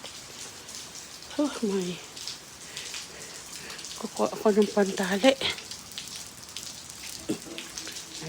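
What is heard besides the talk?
heavy rain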